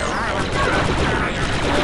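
Sustained blaster and rifle fire from a squad firefight in Star Wars Republic Commando, a dense continuous fusillade filling the clip, loud and close, with combat noise layered throughout.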